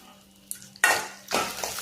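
Urad dal, coconut, tamarind and dried chillies are stirred in a pan over low heat for banana leaf chutney, heard as a few close scraping, clattering bursts over a faint background.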